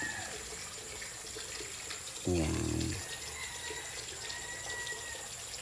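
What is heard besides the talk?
water running in to fill pool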